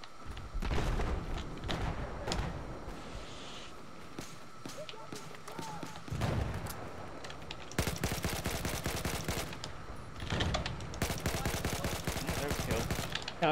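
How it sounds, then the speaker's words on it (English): Battlefield 4 combat with repeated mortar launches and bursts of automatic gunfire, heavy thumps and long rattling volleys near and loud, with game audio throughout. "New mortars going out."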